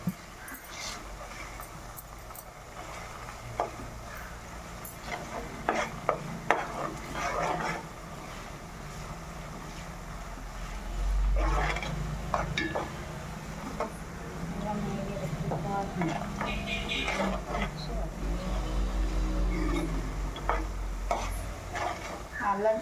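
Ginger garlic paste frying in a pan for a country chicken curry, with sizzling and repeated stirring scrapes, while someone talks over the cooking.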